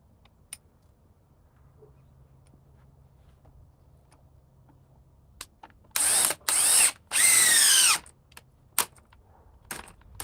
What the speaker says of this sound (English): We'll run the 1007 DeWalt with the 8 amp power pack